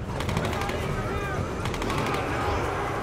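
Shotgun blasts in the Tomb Raider video game, dense and loud, with someone talking over the continuous combat noise.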